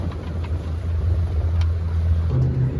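A motorized dinghy runs across open water at sunset, its outboard engine giving a steady low drone with water rushing against the hull, continuous and close throughout.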